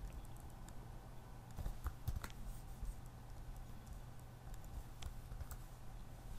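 Quiet, irregular clicking of keys on a computer keyboard, close by and faint, over a low steady hum with no speech.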